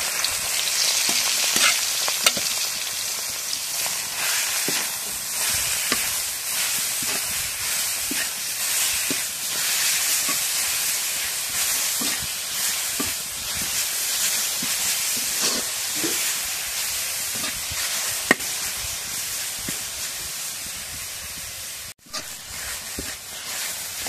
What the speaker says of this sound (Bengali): রসুনটা তেলের মধ্যে ভাজা হয়েছে। এখন শাকগুলো দিয়ে দিই।